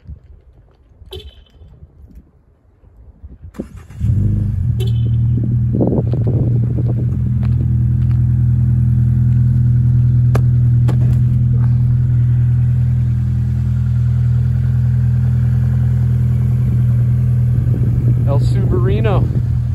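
A car parked in a snowy mountain town near Big Bear Lake, California starts up with a short crank, then settles into a loud, steady low idle that runs close and continuous, with someone speaking before and during.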